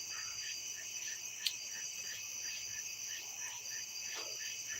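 Crickets chirp outdoors at night in steady, high, overlapping trills with a regular pulsing rhythm, filling the background evenly, with a brief sharp click partway through.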